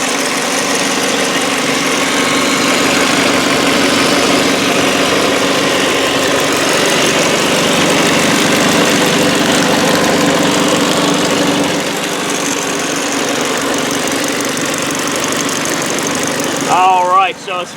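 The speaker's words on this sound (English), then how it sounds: "I'll just be nice and quiet and let you guys listen to the motor" A 2005 Ford Focus ZX3 with a four-cylinder engine and five-speed gearbox idles steadily and close by, a continuous even hum that holds for nearly the whole stretch before a brief bump of noise near the end.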